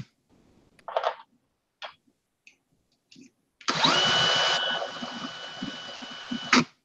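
A case trimmer driven by a DeWalt cordless drill with a large battery whirs into a loud, steady high-pitched spin for about three seconds, preceded by a few faint clicks and taps of brass cases being handled.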